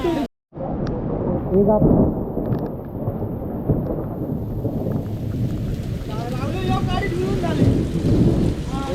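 The season's first rain falls steadily during an outdoor cricket game in the Konkan, with low rumbling thunder, while people talk and shout over it.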